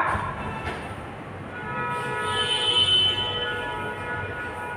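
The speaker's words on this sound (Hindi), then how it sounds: "Soon the train reached the platform." A train pulling into a railway station platform, a steady broad rumble with a faint horn-like tone rising midway, heard alone at moderate distance with no talking.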